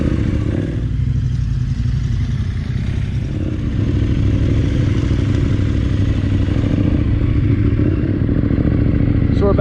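Adventure motorcycle ridden during enduro training on a private property, its engine droning steadily and close throughout with some clatter and scraping over rough ground, a voice faintly present underneath.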